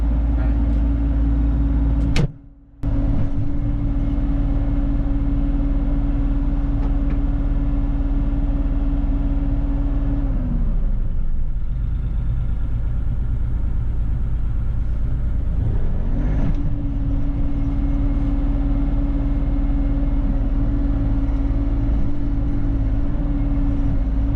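A Bobcat E42 excavator engine runs at full throttle while digging, a loud continuous low drone with a steady hum that dips briefly midway and then returns, with a short clunk near the start.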